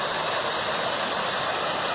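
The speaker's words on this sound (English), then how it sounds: "here's the waterfall" Waterfall in a forest swollen after several days of heavy rain, a steady broadband rushing roar that holds constant and loud throughout with no pauses or voices.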